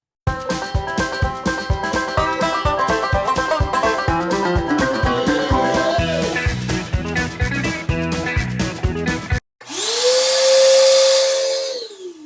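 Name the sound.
shop vacuum running without muffler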